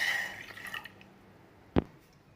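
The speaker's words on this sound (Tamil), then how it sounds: "தண்ணி ஊற்றிக்கலாங்க." Water poured into a cooking pot while making sweet ragi flour idli, a splashy pour that fades out, followed by a single sharp drip.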